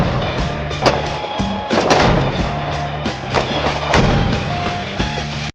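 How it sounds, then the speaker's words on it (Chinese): Gunfire at a shooting range during target practice: several sharp, loud shots ring out about a second apart at an uneven pace, over a steady background rumble. "开始射击。"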